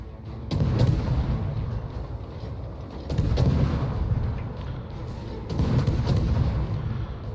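Three heavy, booming naval gun salvos from the video game World of Warships, evenly spaced about two and a half seconds apart. Each is loud and rumbling, with a long low tail.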